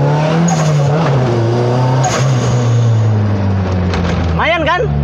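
Turbocharged Honda Civic Estilo accelerating on the road, engine note climbing through the gears, loud and close from inside the cabin, with a person talking over it.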